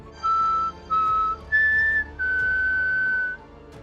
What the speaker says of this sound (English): whistled at it to get its attention.